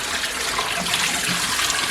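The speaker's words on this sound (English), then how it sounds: "I'll turn the water off" Tap water runs steadily into a sink while rinsing a film-developing test tube, a continuous close splashing hiss that holds evenly for the full two seconds without stopping.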